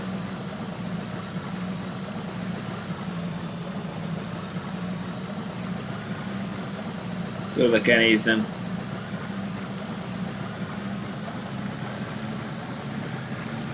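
Boat engine in the video game Far Cry, a steady low motor drone running throughout, with a brief louder burst in the middle and a person talking over it.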